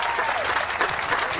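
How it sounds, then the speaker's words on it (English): A crowd at a Memorial Day Healing Field of Flags ceremony claps steadily, a dense even wash of applause with no pauses. "Let's give a round of applause to Jane Schaefer and Dave Duprey."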